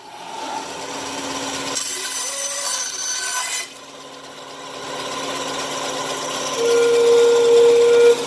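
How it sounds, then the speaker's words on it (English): Pan flute pipe being trimmed with a steady, rasping cut, then a pause and a renewed stretch of scraping; close and fairly loud with no speech. "I'm going to go ahead and trim some of it off so I can keep an eye on the intonation"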